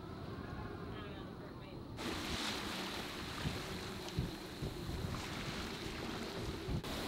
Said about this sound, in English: the wind is coming from the direction we need to go